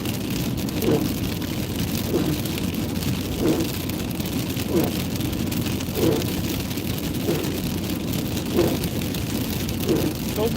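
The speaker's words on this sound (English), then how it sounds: "Hoping it rained a little harder, to tell you the truth." Steady rain falling on a rainy Sunday, a dense continuous hiss outdoors with faint periodic thumps underneath.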